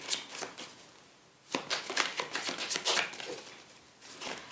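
Tarot cards being shuffled by hand close up, a burst of dense riffling and flicking after a quiet opening, with softer shuffling at the end and no talk.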